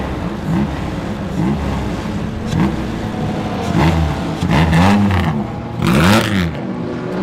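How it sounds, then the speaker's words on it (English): A 1927 Bentley race car engine pulling away at a historic racing event, its low mid-range note rising in repeated revving surges as it gets going, loud and close with no talk. "I just wanted to listen to the engine note as that Bentley gets going again"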